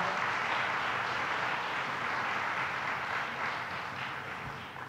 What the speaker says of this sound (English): Let's give them another round of applause and thank them.